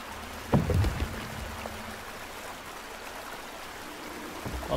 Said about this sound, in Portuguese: Certeza vai dar uma cachoeira essa aqui, é absoluta